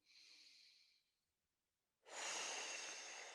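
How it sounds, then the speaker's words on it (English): A person draws two slow, audible breaths close to the mic: a softer inhale, a short pause, then a longer, louder, airy exhale. "everybody take a breath"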